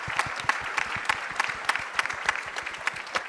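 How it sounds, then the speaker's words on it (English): A conference audience at the opening of European R&I Days applauds, with clearly separate, rhythmic claps from a fairly small crowd, moderately loud and steady. "A round of applause for John Bell as well."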